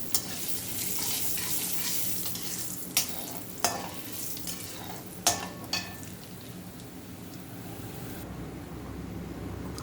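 Chana dal, urad dal and asafoetida frying in oil for a lemon rice dish, a steady close sizzle with a few sharp spoon clinks and stirring scrapes, no voices.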